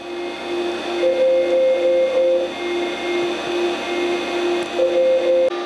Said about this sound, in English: So that wonderful whirring noise you're hearing is the dynamotor generator supplying the high voltage for the unit.